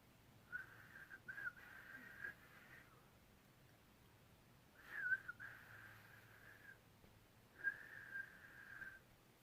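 A person whistles three sustained tones with pauses between them, faint and thin, each held for a second or two, with no talking.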